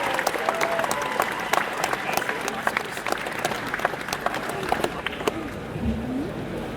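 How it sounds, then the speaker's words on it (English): Audience applause for a panel guest at MCM Birmingham Comic Con 2018, a steady stream of many hands clapping in a large hall, fairly even in loudness and lasting several seconds, with faint voices beneath. "Please give a massive round of applause"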